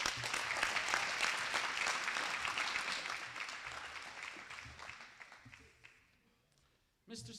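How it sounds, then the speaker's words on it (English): Audience applause at an FFA banquet, steady clapping from a roomful of people that slowly fades out over about six seconds before a voice cuts back in. "Another round of applause for Kennedy"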